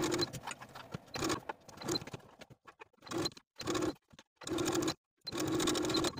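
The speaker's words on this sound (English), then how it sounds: "I'm going to edge stitch all the way around the inner folded edge of my bias tape from neckline to neckline." A sewing machine edge-stitches folded bias tape around a ruffle top's neckline in short close bursts, stopping and starting several times with brief pauses between runs.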